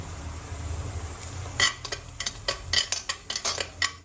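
Spice masala with turmeric and garam masala frying in oil in a pan while being stirred, a low sizzle joined after a moment by a run of sharp spoon scrapes and clinks against the pan.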